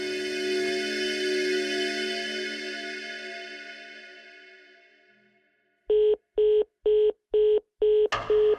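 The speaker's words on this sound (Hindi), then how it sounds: "एक काम करता हूँ, फोन मिला के देखता हूँ" A telephone rings out in a long fading dial tone, then after a short silence six evenly spaced touch-tone beeps sound as a number is dialed, loud and close with no talk.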